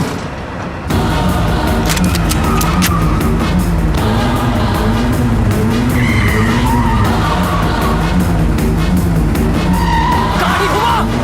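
In a movie chase scene a car skids with loud, sustained tire squeals and roaring engine noise, close and continuous, with voices shouting underneath.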